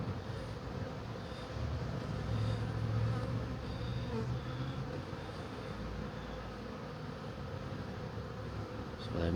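Honeybees buzzing around an open hive during an inspection, a dense continuous drone, close and fairly quiet, with no talking.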